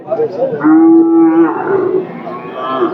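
A single long, loud moo from a nearby cow at a cattle market in Amraid, Gazipur, drawn out over a couple of seconds, with faint background murmur.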